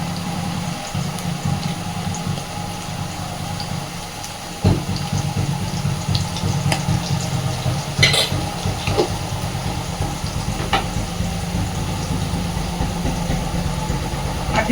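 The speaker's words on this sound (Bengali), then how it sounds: "আলুগুলো এবার একটু নাড়াচাড়া করে একটু সুন্দর করে ভেজে নেব।" Potatoes stirred and frying in a pan, a steady close sizzle with occasional scraping and clinks from the spatula running throughout.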